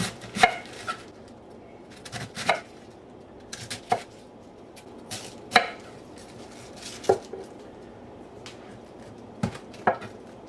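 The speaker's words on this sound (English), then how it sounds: "now I just cut it into something like between 3/4 and 1/2 inch wide slices" A knife slices cabbage into wide strips on a cutting board, about a dozen crisp chops at irregular intervals, close and fairly quiet against a soft background hiss.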